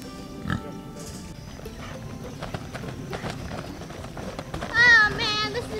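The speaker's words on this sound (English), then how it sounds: "pigs" Pigs oink and squeal, with a louder harmonic squeal near the end of the clip over a steady rustling, busy background and some voices.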